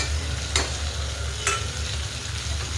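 Spices (turmeric, salt, black masala, red chili powder and garam masala) being stirred into cluster bean curry in a pan, with a steady close sizzle and two sharp scraping strokes of the spoon, no talking.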